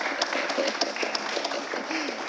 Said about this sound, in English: And so I also want to give a round of applause.